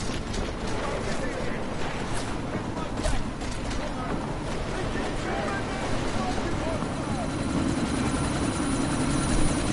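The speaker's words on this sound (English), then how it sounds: "you need to disable that chopper!" A helicopter in a video game thrums continuously with a loud, steady rotor chop and mechanical whine throughout, with voices occasionally talking over it.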